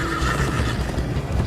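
Horse neighing in the video game Minecraft Story Mode, a loud, steady whinny lasting the whole moment with faint hoof clip-clop beneath it during a ride.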